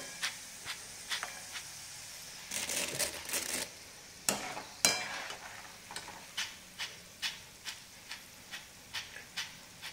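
Crisp-fried peanuts are scraped from hot oil onto puffed rice for a spicy Kolhapuri bhadang snack, bringing a dense burst of rustling and clattering, then a run of evenly spaced sharp scraping taps, close and fairly quiet.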